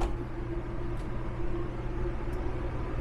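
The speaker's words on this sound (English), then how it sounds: "Sorry, the AC just kicked on because my doors are wide open." Rooftop air conditioner of an Alliance Valor 40V13 toy hauler RV running with the doors open, a steady low hum and broadband whoosh throughout, with a couple of faint high ticks and no speech.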